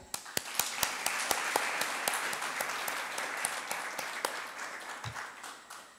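Audience at a Marathi health and yoga lecture bursting into applause, a dense, steady clatter of many hands with a few sharp individual claps standing out, fading slightly toward the end.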